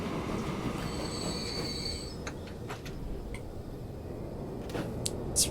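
A train running on rails in the video game Transport Fever 2, a steady rumbling roll with a high wheel squeal early on and a series of sharp clicks from the track, heard without talk.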